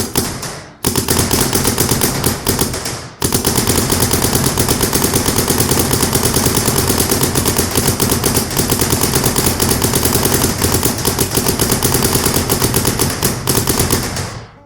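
A Planet Eclipse CS2 Pro paintball marker fires on uncapped semi, producing a dense, loud stream of rapid pops in two long bursts with a brief pause between them.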